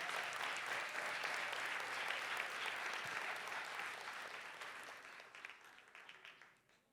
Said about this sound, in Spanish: Vamos a darle un aplauso fuerte al Señor.